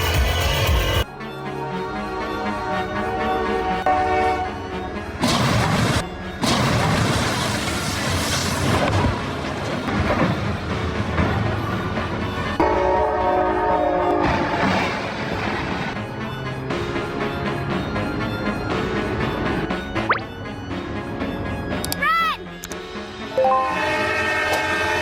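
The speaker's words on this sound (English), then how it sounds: "A car was left on the railway line while a train was coming closer." A train rumbles past with loud, sustained blasts of its horn, metallic clanks and grinding noise throughout, ending in a high squeal, as it strikes a car left on a railway crossing.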